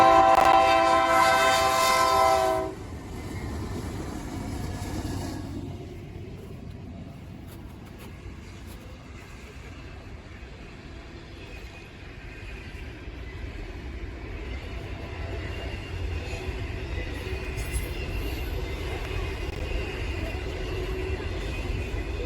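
An NS264 freight train led by a BNSF-patched Santa Fe warbonnet locomotive rolls past in New York, a horn blast up front giving way to a steady rumble of wagons that carries on alone.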